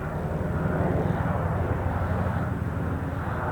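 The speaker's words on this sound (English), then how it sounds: "There's a Black Hawk helicopter." A Black Hawk helicopter passing overhead gives a steady, broad low rumble that stays loud and even for the whole stretch, with no talk over it.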